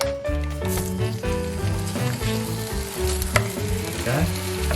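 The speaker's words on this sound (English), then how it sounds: "Put our sausages on." Vegan sausages sizzle steadily in a frying pan, a constant close crackle with faint music playing underneath.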